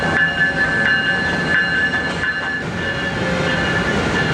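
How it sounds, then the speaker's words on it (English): An ACS-64 electric locomotive rolls into a station platform on the Northeast Corridor with a steady mechanical drone, a high electric whine and light rhythmic wheel clicks, loud and near. "the ACS 64, which is set to lead our train into Baltimore and beyond, is arriving on the platform"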